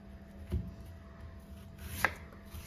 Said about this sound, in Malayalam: ആദ്യം തന്നെ ചേന നമുക്ക് കഷ്ണങ്ങളാക്കാം